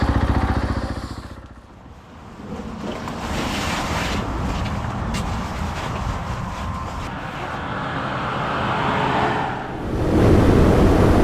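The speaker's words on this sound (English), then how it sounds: "Bike's just cruising so nice. I'm at 110k an hour there, just so easy for it." A KTM 500 motorcycle cruises steadily at 110 km/h, its low engine drone almost buried under heavy, continuous wind rush that eases briefly before building again; no one speaks.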